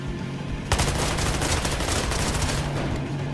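Rapid video game gunfire bursts out loudly after a short quiet lead-in, a dense, continuous rattle of shots that keeps going to the end with no talk over it.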